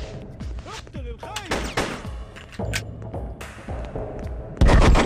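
Desert Eagle pistol fire in the video game Hitman 2: Silent Assassin, a string of sharp, loud shots spaced irregularly across the clip, with a final heavy burst at the end and brief game voices between them.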